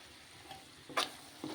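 Chili powder frying in a pan with prawns and cucumber, heard as a quiet crackle broken by two brief bursts of sizzling and stirring, the first louder than the second.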